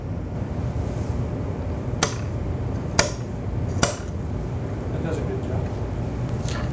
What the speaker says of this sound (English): then a center punch to mark the center